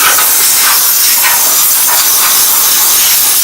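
Compressed air blasts steadily against a car's underbody and frame during prep work for an LS engine swap, a loud, continuous broadband hiss with slight fluctuations and no pauses.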